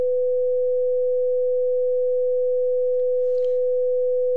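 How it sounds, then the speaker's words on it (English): A steady 500 Hz pure sine tone used in a physics demonstration of interference and beat notes, holding one unbroken, constant pitch at even loudness throughout with no other sound. "Here's the 500 Hz signal again."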